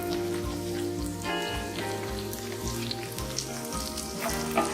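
Chopped green chilies and ginger roasting in hot oil, a continuous bright crackling sizzle with a steady hum underneath and occasional louder pops, heard alone.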